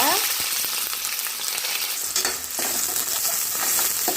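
A loud, steady sizzle of onions frying in hot oil, close up, with occasional stirring scrapes.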